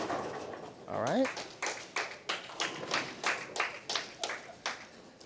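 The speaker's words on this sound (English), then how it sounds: "those sarcastic claps are from his best friends and teammates" At a bowling doubles shootout, friends and teammates give a bowler a run of slow, sarcastic claps, about a dozen spaced sharp claps at a loose steady rhythm, fairly close, following a brief vocal squeal.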